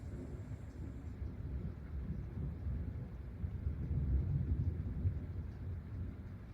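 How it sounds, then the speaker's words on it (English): Low rumbling thunder rolls through a cold thunder snow storm with sleet and rain around 41 degrees, a steady deep growl that swells slightly midway and stays fairly distant with no talk over it. "It's thunder and lightning and sleet and rain and 41 degrees."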